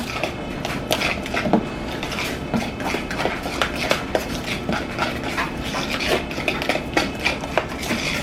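Ricotta cheese being stirred in a bowl for lasagna, with repeated close scraping and clinking of a utensil against the bowl in a steady rhythm, alone without talk.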